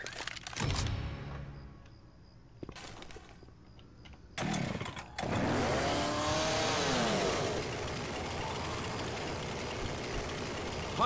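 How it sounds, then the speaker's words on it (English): A chainsaw in Left 4 Dead 2 roars to life and revs loudly and continuously after a few sharp bursts of game sound effects. Nobody speaks. "Got a chainsaw. Chainsaw."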